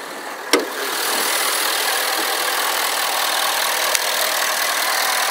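A 2011 Ford F350 Lariat 4x4 pickup with a 6.7 liter Powerstroke diesel engine idles steadily and close by, a smooth continuous rumble with a couple of brief clicks.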